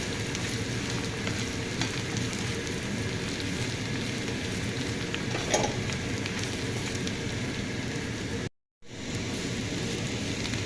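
Continuous, even sizzling of grated coconut frying in a pan, with a brief cut to silence near the end.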